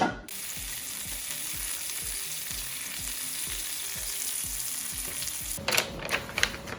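Beef heart seasoned with a balsamic marinade sizzles steadily in a pan, cooked like a steak, with soft rhythmic low thumps beneath the frying and a burst of louder crackling and popping near the end; no voices.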